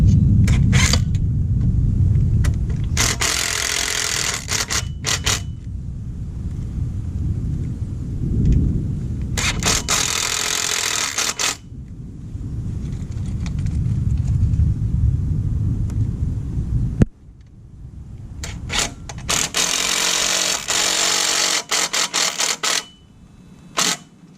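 Screws are driven to install Bennett hydraulic trim tabs on a Carolina Skiff 198 DLV boat, with three loud, close bursts of a power driver whirring, separated by low rumbling handling noise, and no talk.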